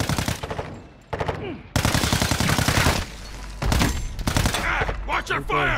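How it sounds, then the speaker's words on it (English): Rapid bursts of gunfire from inside a building, loud and close, with automatic volleys and single shots echoing over several seconds. "He is shooting from inside."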